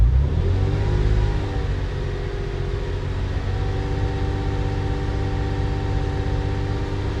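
An old Porsche engine is held at around 2,000 rpm, a steady, close, mechanical drone with a firm humming tone that settles slightly after the first second, with no voices.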